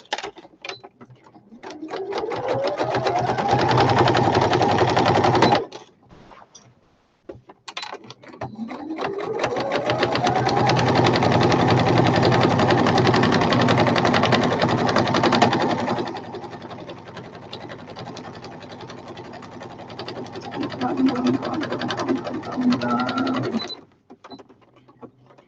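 A sewing machine stitches a sewing machine cover in two long runs, each starting with a rising whir and settling into a steady mechanical chatter, with brief quiet pauses between and softer clicking near the end.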